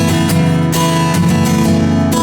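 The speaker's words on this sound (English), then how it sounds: "And then I do a flamenco strum, a rasgueado." An acoustic guitar plays a flamenco rasgueado, fast finger flicks and pick strokes giving a rhythmic burst of bright, percussive strums, loud and close with no talking.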